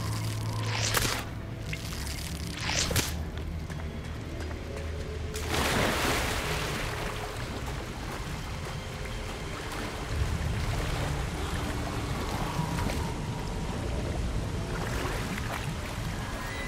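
Within the Hogwarts Legacy video game, a waterfall pours in a constant broad rushing wash of water, steady and moderately loud throughout, with faint thuds and scattered game sounds layered on top.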